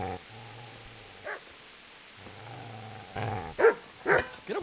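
Dog barking in the medieval role-playing game Kingdom Come: Deliverance, several sharp barks and yips rising toward the end over a low droning game ambience, with no talk.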